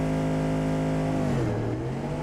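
Race car engine in the Street Outlaws video game, a steady loud drone that holds its pitch, then drops lower and settles, with no voices over it.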